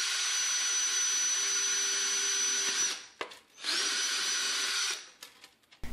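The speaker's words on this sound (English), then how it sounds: "drill 2 holes in the bottom side of the 2-liter bottle" A power drill bores holes into a plastic 2-liter bottle, a high steady whine running for about three seconds, stopping briefly, then whirring again for another stretch before trailing off into faint clicks.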